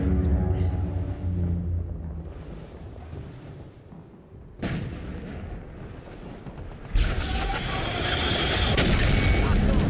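Explosion in the shooter game The Bureau: XCOM Declassified: deep booming blasts with a sharp burst midway and a louder roaring blast near the end, mixed with game noise and some voice.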